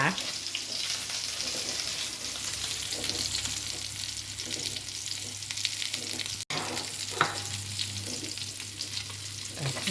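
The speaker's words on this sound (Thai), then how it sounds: "ก็จะจี่ปลาเซนมอนก่อน" Salmon pan-fries for sushi with a steady, even sizzle and soft stirring noises, close and continuous, over a low hum, with one brief dropout partway through.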